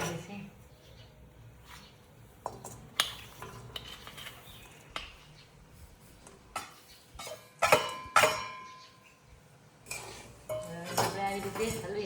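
Spoon scraping and clinking against a pan while jaggery is stirred in ghee for peanut chikki, irregular metallic knocks and scrapes, moderately close, under faint background noise.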